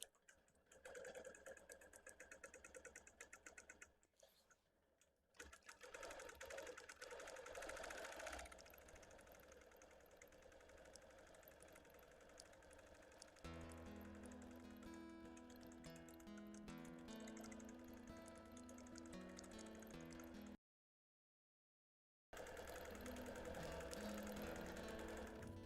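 A Bernina longarm quilting machine with its stitch regulator set to 10 stitches per inch runs in long continuous stretches while stitching appliqué. The stitching hum is steady, pauses briefly, then resumes.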